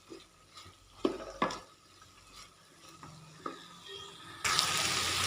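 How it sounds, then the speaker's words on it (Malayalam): Onions being sautéed in a pan for chicken biryani masala, with intermittent stirring scrapes and light sizzling, ending in a louder rush of hissing near the end. "നന്നായി വഴറ്റി കൊടുക്കാം."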